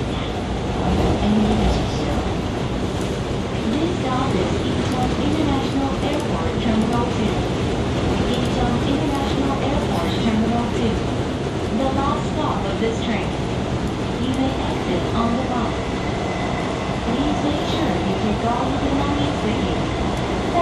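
An Airport Railroad train at Incheon Airport Terminal 2 gives a steady, loud carriage rumble throughout, with a spoken announcement playing over it.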